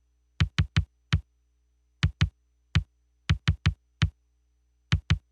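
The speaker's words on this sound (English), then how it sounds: "And the kick on its own would sound like this." Kick drum sample from a Roland TR-505 drum machine, pitched down a semitone, played solo as a pattern of about fifteen short, punchy thumps in irregular groups, with silence between hits.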